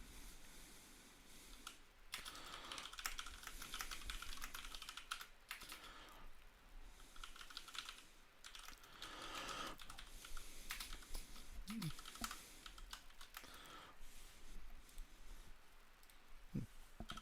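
Steady, continuous typing on a computer keyboard, dense clattering keystrokes running throughout at close range with brief pauses, no voices.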